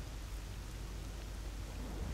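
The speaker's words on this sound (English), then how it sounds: "Was it just thunder or something more sinister?" Thunder rumbles low and steady beneath continuous rain in a video game, a dense unbroken wash of noise heard alone at moderate distance for the whole stretch.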